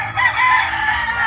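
A rooster crows in a single sustained call, loud and fairly close, with no voices over it. It comes from a cockfighting setting.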